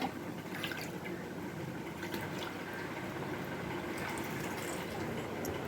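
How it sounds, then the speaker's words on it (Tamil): Water pours into a small fish tank during cleaning, giving a steady, close bubbling and splashing rush with faint drips, unbroken from start to finish and with no voices. "தண்ணி ஃபில் பண்ணியாச்சு"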